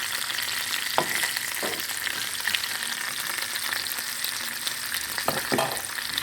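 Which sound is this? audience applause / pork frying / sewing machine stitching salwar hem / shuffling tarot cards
pork frying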